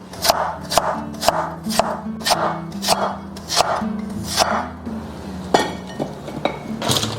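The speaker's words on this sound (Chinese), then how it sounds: "把洗净的山药我们改刀切成菱形块" A knife chops peeled Chinese yam into diamond-shaped pieces on a board, giving a steady run of sharp, close knocks at a regular rhythm with no speech.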